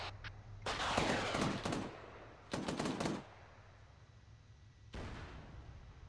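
Rocket launcher fire in the Arma 3 video game: loud bursts of blast and roar with crackling tails, arriving as three separate volleys with gaps between them.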